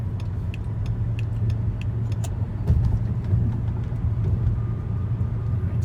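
A high-mileage 2007 BMW 530i carrying stored VANOS and brake fault codes drives on side streets, its engine and road noise forming a steady low rumble inside the cabin, with faint ticking clicks and a brief surge partway through.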